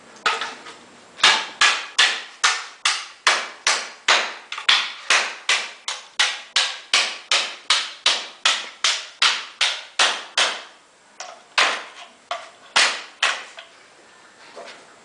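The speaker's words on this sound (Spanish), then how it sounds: "aquí tenemos un martillo y aquí tenemos un pedazo de plástico que va a ser golpeado por el martillo" A hammer strikes a piece of plastic over and over in a steady, fast rhythm of sharp cracking knocks, roughly two blows a second, close and loud, with the hits growing slightly irregular toward the end as the plastic breaks.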